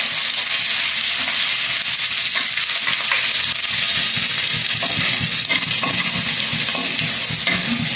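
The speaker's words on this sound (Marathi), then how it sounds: "आता यामध्ये आपल्याला टाकायचं आहे अद्रक आणि लसूण हे ठेचलेलं. ते 2 मिनिटं आपल्याला फ्राय होऊ द्यायचं आहे." Crushed ginger and garlic fry in a pan for a Khandeshi-style pumpkin bhaji, a loud, dense, continuous sizzle with steady stirring crackle throughout and no talking.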